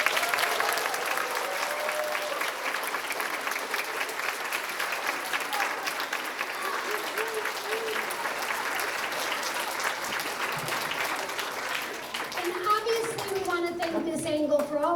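An elementary school audience at a Veterans Day ceremony gives sustained loud applause for veterans. Clapping fills the room while children's voices chatter through it, growing more noticeable near the end.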